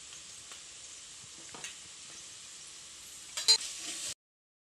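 Onions frying with ginger masala paste for egg fried rice, a steady soft sizzle with a few light stirring clinks and a brief louder scrape near the end, close by and with no voices.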